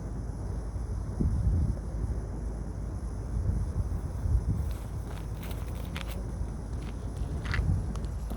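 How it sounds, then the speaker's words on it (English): Wind buffets a microphone at a stealth camp near a sewage treatment works, a steady low rumble with gusts swelling and fading throughout, plus faint scattered rustles and knocks. "the wind is kicking up"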